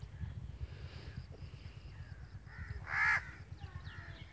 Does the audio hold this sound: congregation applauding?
no